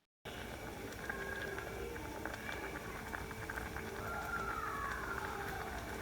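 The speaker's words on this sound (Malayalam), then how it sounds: "ഇനി ഇത് ഇരുന്ന് നന്നായിട്ടൊന്ന് തിളക്കട്ടെ." Kerala-style green gram curry boils in a pot, a continuous dense bubbling hiss that holds steady from start to finish with no voices.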